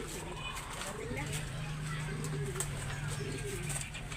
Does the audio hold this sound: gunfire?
no